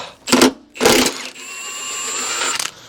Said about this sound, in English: Now we'll get these two big bolts out.